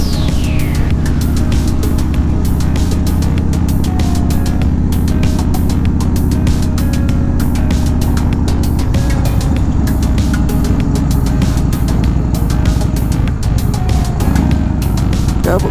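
A car engine labours steadily up a mountain road near Lake Tahoe, its low drone holding loud and continuous throughout, with a shift in pitch partway as the driver double clutches.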